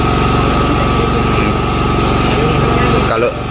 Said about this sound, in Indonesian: di Gunung Tinggal ini ada genset, jadi berikut satu genset.